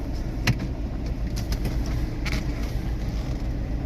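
A car reversing into a parking spot, its steady engine rumble loud and close throughout, with a few faint clicks and knocks on top and no talk.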